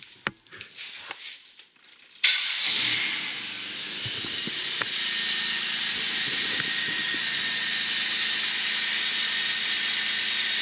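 A Buick Regal GS engine with new Speed Daddy headers cranks after a few clicks and thumps, then settles into a steady, loud idle with a raspy exhaust hiss that continues to the end.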